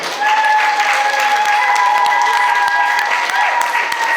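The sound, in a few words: church congregation applauding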